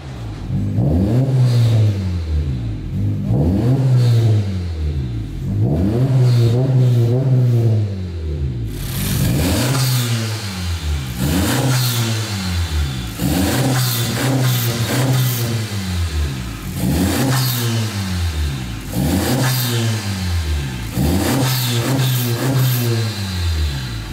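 Honda Civic RS fitted with a new air intake, headers and downpipe, revved repeatedly in about eight rising and falling bursts, loud and close, growing rougher and harsher in the second half.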